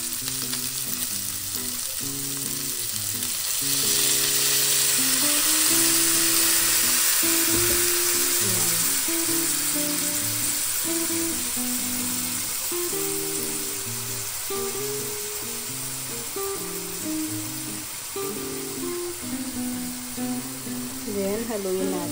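Soy sauce hits a hot frying pan of adobong sitaw and sizzles loudly and steadily, with stirring and scraping in the pan and a voice talking intermittently over the frying.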